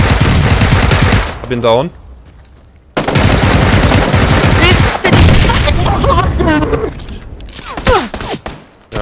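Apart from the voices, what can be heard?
gunfire in PUBG video game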